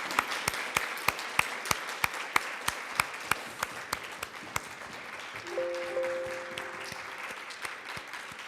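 Guests at an award luncheon break into applause, a round of fairly distant clapping with a few distinct loud claps over a room murmur that gradually thins out, and a brief tone sounds midway.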